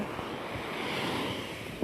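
Sea surf washing onto a beach shore, heard as a steady, continuous roar of breaking waves with a faint wind rush, close and even throughout, with no one talking.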